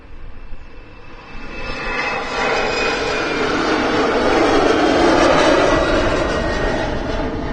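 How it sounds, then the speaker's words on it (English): A KLM Embraer jet rolls for takeoff at Amsterdam Schiphol Airport, its engine roar swelling from a moderate whine into a loud, sustained broadband rush that holds steady to the end. "Here we go, KLM rolling,"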